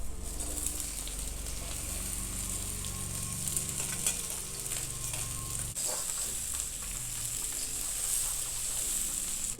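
Onions fry for chicken manchurian with a steady, close sizzle in hot oil, the hiss dense and continuous, with occasional stirring scrapes and no voices.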